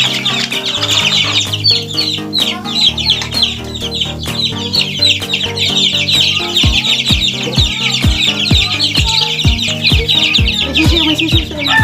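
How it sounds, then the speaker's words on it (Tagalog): Chickens and two-week-old chicks in a mini range: steady high peeping from the chicks mixed with hen clucks, with a run of dull rhythmic thumps in the second half. No one speaks. "May sisiw."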